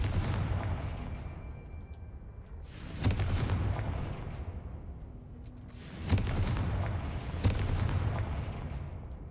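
Booming spell explosions from Bombarda and Confringo in the Hogwarts Legacy video game, three heavy blasts a few seconds apart, each a sudden loud crack that trails into a long rumbling decay, with no voices.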